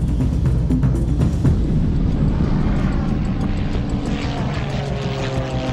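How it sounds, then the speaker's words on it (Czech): A single-seat Ipanema propeller airplane running on sugarcane alcohol drones steadily and loudly throughout, its engine hum constant and close with no talking. "Toto jednomístné letadlo jménem Ipanema vstoupí do historie."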